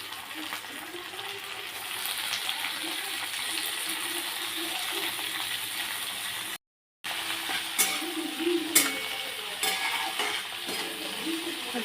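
Chopped tomatoes and onions frying and being stirred in oil for a cashew curry, a steady sizzle with scraping stir strokes, broken by a short gap of silence partway through.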